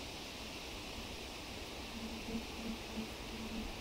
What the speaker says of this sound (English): that constant white noise of wind way up in the leaves, way above you